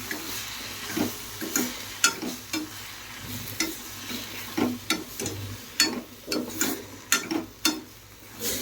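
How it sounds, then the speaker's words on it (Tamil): Tomatoes sauté in a pan for a kurma, a soft hiss of frying under repeated sharp scrapes and taps of a spoon stirring against the pan, coming in uneven bursts every second or so. "தக்காளி வந்துட்டு நல்லா வதங்கி வரணும்"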